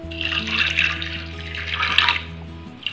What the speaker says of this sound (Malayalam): ഇതിലേക്ക് നമുക്ക് വേകാൻ ആവശ്യമുള്ള വെള്ളം ഒഴിച്ചു കൊടുക്കാം.